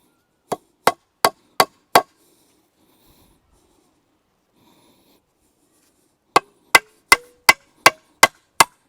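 A hammer drives nails into a wooden allotment fence in two bursts of sharp, evenly spaced blows, five and then seven, loud and close with silence between.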